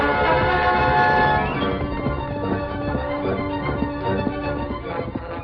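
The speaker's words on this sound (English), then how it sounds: "Racing toward the oncoming train that had already started down the side of Bald Mountain, the Lone Ranger came close" An oncoming train as a radio drama sound effect, heavy rumbling and clattering wheels with horn-like tonal blasts, loud and close at first, then easing slightly as it rolls on alone.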